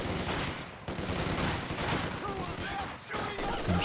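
Dense rifle and machine-gun fire crackles without pause in a Company of Heroes 2 battle, with someone commentating over the continuous shooting.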